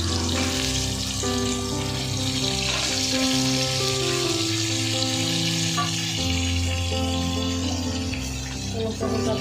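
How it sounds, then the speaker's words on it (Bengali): Pointed gourd (potol) fries in hot oil with a steady, continuous sizzle, close and even throughout, over a layer of sustained tonal sound. "পটলটা ভাজা হচ্ছে দেখুন"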